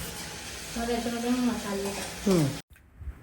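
Onion with two bay leaves and a spoonful of ginger garlic paste sizzles in oil as it is stirred, a steady frying hiss with a few spoon scrapes near the end before it cuts off.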